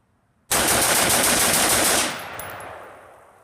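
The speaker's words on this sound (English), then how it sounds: "now we're going to go to the Tac Con trigger, 10 rounds" A rifle fitted with a Tac Con 3MR trigger fires a rapid ten-round string, loud sharp shots running together in a fast continuous burst for about a second and a half before ringing off into echo.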